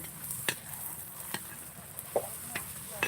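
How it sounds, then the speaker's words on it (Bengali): Steady sizzling of fuchka puris frying in hot oil, with a few sharp crackles and pops standing out at intervals. "এটা একবার ভাজা হচ্ছে"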